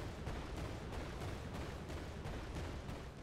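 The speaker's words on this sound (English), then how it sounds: "The explosion particle effects are there along with our explosion sounds." Explosion sound effects in an Unreal Engine 5 game, a rapid series of booming blasts repeating about every third of a second, loud and continuous with no talk.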